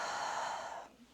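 A single deep, breathy exhale, close and soft, fading out after about a second.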